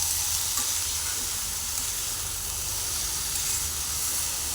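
Banana stem side dish being stirred and mixed in a pan, giving a steady hiss and sizzle with soft scraping throughout, no voices.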